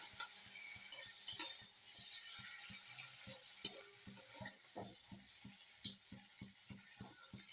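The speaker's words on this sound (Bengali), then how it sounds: "হালকা করে ভাজবেন, খুব একটা কড়া করে ভাজার প্রয়োজন নেই।" Paneer cubes and capsicum fry gently in a pan, with a faint, steady sizzle beneath a quick, regular series of soft stirring clicks and scrapes from a spatula.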